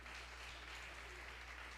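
A church congregation applauding during a worship service, with steady, dense clapping from many hands filling the room at a moderate level throughout, no voices over it.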